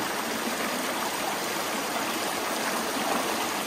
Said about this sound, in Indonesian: inilah sungai kecilnya yang ada di dalam hutan